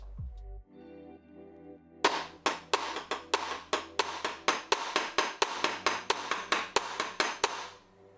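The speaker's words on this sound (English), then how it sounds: "the drilling is on the roof of my flat, and I live on the top floor" Maintenance work on the roof above a top-floor flat: loud, evenly spaced banging strikes, about three per second, that begin abruptly after a quiet start and keep going close and alone.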